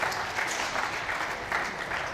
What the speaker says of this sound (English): The crowd responds as well. They've just exploded back here.